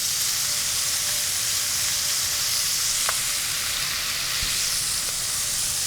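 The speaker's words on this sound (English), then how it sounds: "making sure that it all has contact with the bottom of this Dutch oven so it gets nice and brown." Pork pieces sizzling steadily in a single layer in a Dutch oven, a loud, constant frying hiss with a faint occasional tick or pop.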